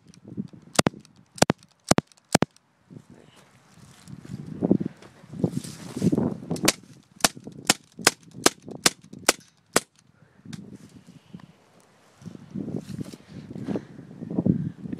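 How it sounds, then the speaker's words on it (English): A CO2-powered BB gun fires at a PlayStation Portable outdoors, giving sharp, loud single pops in quick clusters with gaps between, over light wind and background rustle. "We're going to be shooting the PSP over there with my CO2 gun."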